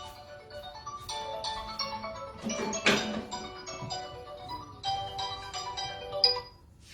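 A mobile phone ringtone plays as a repeating electronic melody, moderately loud and continuous for several seconds, with background noise beneath it.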